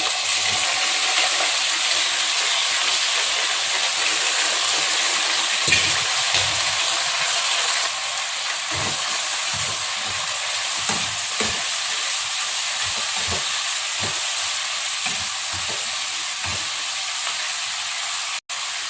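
Raw banana pieces fry in hot oil with a constant bright sizzling hiss, punctuated by short scraping clicks of stirring in the pan.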